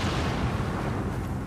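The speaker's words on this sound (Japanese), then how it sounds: "爆発？" A dull, rumbling explosion in the samurai action game Nioh 2, a dense low boom filling the short moment with no talk over it.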